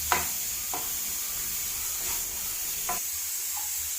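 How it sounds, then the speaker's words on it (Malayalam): Spice powder roasts on a low flame for a roasted-coconut beef curry, a gentle constant sizzle broken by a few distinct scraping strokes of the stirring spoon, no talk. "നമ്മൾ ലോ ഫ്ലെയിമിലാക്കിയിട്ട് ഒരു രണ്ട് മിനിറ്റ് നേരെ ഇതേപോലെ ഒന്ന് ഇളക്കി കൊടുത്താൽ മതി"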